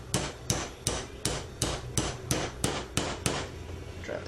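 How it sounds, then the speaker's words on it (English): A makeshift hammer taps a pin through a Rap4 Desert Eagle airsoft pistol in nine evenly spaced, sharp metallic strikes, close and fairly loud, with a softer rustle as the tapping stops. "I'm gonna take my makeshift hammer again,"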